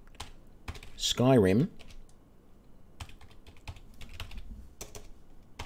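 Fast clicking keystrokes on a computer keyboard as a command is typed into a Linux terminal, close and irregular, with a brief burst of speech partway through.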